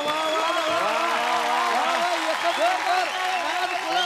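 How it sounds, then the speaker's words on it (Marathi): An audience at a Marathi village television show claps in a dense, continuous patter of applause, with singing and voices carrying over it throughout. "टाळ्या"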